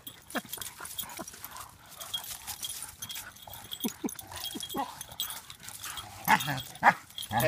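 A Staffordshire Bull Terrier growls and huffs in rough play, with short bursts of low growls, snorts and a few yelps along with scuffling paw sounds, close and fairly loud.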